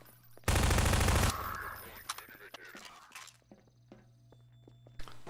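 Half-Life 2 gunfire rips out in a loud, dense automatic burst lasting under a second, followed by scattered clanks, scrapes and footsteps in the game map, with a later sharp shot near the end.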